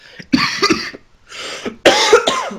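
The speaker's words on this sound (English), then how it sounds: "Well, now I'm coughing." A person coughs several times in short bursts, close and fairly loud, with brief pauses between the fits.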